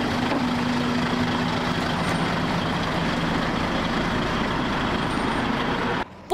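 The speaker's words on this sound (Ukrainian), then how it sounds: "І врешті-решт фура заїжджає на контроль." A loaded heavy truck rolls onto a weighbridge for an axle-weight inspection, its engine rumbling steadily and close for several seconds before cutting off abruptly near the end.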